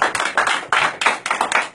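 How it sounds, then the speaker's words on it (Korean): An audience claps in a live-broadcast workshop setting, a burst of dense, uneven applause close by for a couple of seconds with no speech. "수고해 주신 모든 선생님 수고 다시 한번 박수 크게 한번 해주시죠"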